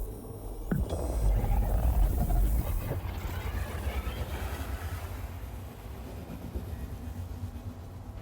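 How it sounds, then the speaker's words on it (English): A ship's quantum travel drive engages in Star Citizen: a deep, rumbling whoosh swells up, then settles into a sustained low roar and hum as the ship speeds up. "Quantum travel engaged."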